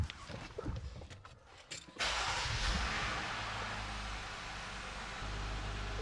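A car engine cranks and fires up right after its engine bay has been washed and is still dripping water, settling into a steady, even idle with a broad, noisy hum that continues on its own.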